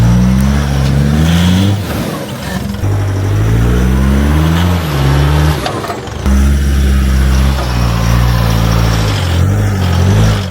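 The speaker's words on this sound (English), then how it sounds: "big D-Max driving straight up this big step without even bottoming out" An Isuzu D-Max pickup truck climbs a big step on an off-road track, its engine loud and close, revving up and down in repeated surges with brief dips between pulls.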